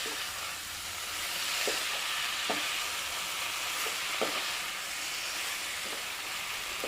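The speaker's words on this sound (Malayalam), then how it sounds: "ഇനി നല്ലപോലെ ഒന്ന് ഇളക്കാം." Mushrooms coated with turmeric and chili powder sizzle steadily in a hot pan, a constant frying hiss broken by a few soft scraping knocks of a spoon stirring them at irregular intervals.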